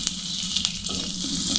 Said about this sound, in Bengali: শুটকি দিয়ে পেঁয়াজ রসুন দিয়ে এটা একটু ভালো করে ভাজতে হবে।